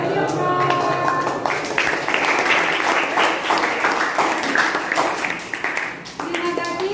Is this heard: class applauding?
yes